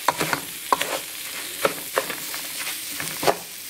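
Onion and rice fry in oil in a pan, a steady close sizzle punctuated by sharp scrapes and clinks as the mixture is stirred, with no talking.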